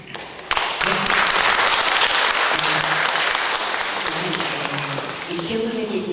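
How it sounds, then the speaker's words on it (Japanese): Audience applause at a Nanjo city festival stage in Okinawa: a sustained wash of clapping from a modest crowd, steady and fairly loud, with a voice speaking briefly over it near the end. "一人で100名分を叩いていただければもう何万人の拍手ですので"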